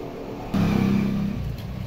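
A repaired sewing machine starts up after a fix for needle breaking, its motor giving a short steady whirring hum that runs for about a second before easing off.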